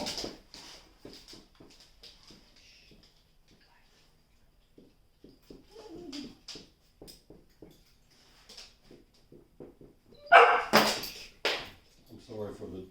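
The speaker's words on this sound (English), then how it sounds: "I'm sorry for our dogs are antsy this morning." Restless dogs indoors bark and whimper in short bursts, faint at first, then a louder flurry of close barks near the end, while someone talks through a math lesson.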